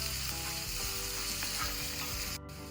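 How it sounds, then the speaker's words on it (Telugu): Sliced onions and green chillies frying in hot oil crackle and sizzle loudly up close, with faint stirring sounds. The sizzle briefly drops near the end. "ఇప్పుడు ఇందులో సన్నగా తరిగిన ఎర్రగడ్డలు, పచ్చిమిర్చి నూనెలో వేసి వేయించుకోవాలి"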